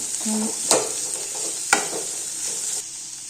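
Dosa batter mixed with sautéed cabbage sizzling in a hot pan, a steady hiss broken by two sharp utensil clicks, close by, fading slightly at the end.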